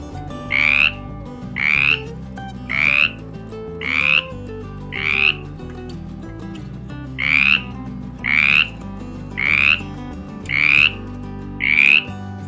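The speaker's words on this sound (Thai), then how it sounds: "อันนี้เป็นเสียงกบร้องค่ะ" A frog croaks in repeated, evenly spaced calls, about ten loud rasping croaks in a steady rhythm over a low background hum, with no voices.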